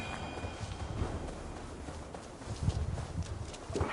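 Horse hooves clip-clopping in Assassin's Creed Valhalla, a steady run of fairly close hoof falls that grow heavier toward the end, over a low game ambience.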